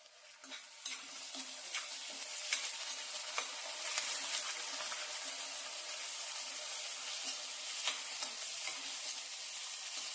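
Sliced onion frying in a pan for a banana stem stir-fry crackles in a steady, fairly quiet sizzle, broken by frequent scraping clicks from a spoon stirring.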